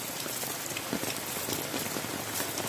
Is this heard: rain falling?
yes